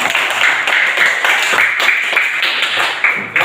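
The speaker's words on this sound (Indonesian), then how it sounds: "kasih tepuk tangan dulu" Classroom students clap together in a fairly close, loud burst of fast, uneven claps lasting a few seconds.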